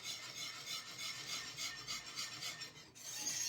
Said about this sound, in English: I like to use a whisk because I don't like my pies lumpy if I can help it